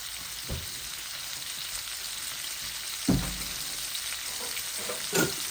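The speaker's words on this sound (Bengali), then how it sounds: "তো মাছগুলা ভাজা ভাজা হয়ে যাক" Whole tilapia fry in hot oil in a pan with a constant, close sizzle, broken by a few soft thuds and stirs.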